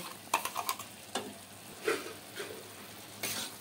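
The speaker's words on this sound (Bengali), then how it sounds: "এখানে যে সর্ষেটা আর পোস্তটা বেটে রেখেছিলাম সেটা এখানে আমি দিয়ে দেব" Ground mustard and poppy seed paste going into a pan of cumin-spiced onion greens, giving soft sizzling and scraping stir sounds with a few sharp taps from a spoon, close and moderate, no talk.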